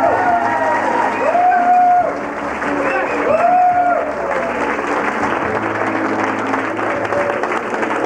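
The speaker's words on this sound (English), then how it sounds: "a nice round of applause as we welcome the parents of our bride" Wedding reception guests give steady, dense applause as the bride's parents are introduced at a July 2000 wedding, with an announcer's amplified voice speaking over the clapping throughout.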